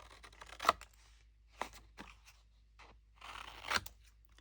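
Paper being cut with scissors to trim out a small square at an angle, heard as a few soft, close snips and crunches separated by quiet gaps.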